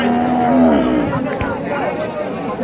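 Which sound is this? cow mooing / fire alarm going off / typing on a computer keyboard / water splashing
cow mooing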